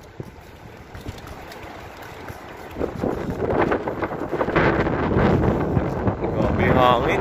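Wind buffets the microphone, building from a moderate rush into strong, gusty roaring that continues to the end.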